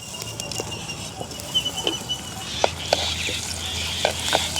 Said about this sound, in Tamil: கடுகு நல்லா வெடிச்சிட்டுது எங்களுக்கு.